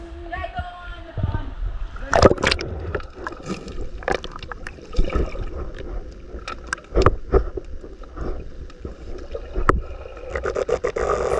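Splashes and water churn as people jump into a village river where festival Ganesh idols still lie submerged, with repeated sharp splashes over steady water noise and voices nearby.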